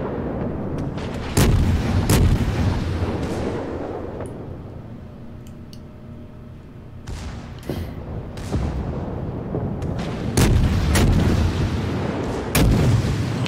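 Warship guns roar in repeated heavy salvos during a World of Warships naval battle, loud booming blasts spaced a second or two apart over a steady rumbling background.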